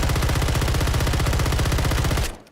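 Rapid automatic fire from the AMR9 in a video game, a loud unbroken burst of evenly spaced shots lasting about two seconds before cutting off abruptly, with no talking.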